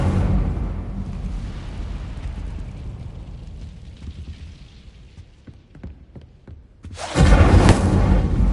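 Fiery Incendio spell cast in Hogwarts Legacy, a sudden loud roaring whoosh of flame that flares up late and sustains over a rumbling backdrop of game ambience.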